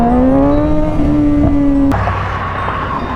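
A Suzuki Gixxer GSX-S 750 motorcycle engine holds a high, rising rev close by, then drops off abruptly into a lower idle rumble, loud and without talk.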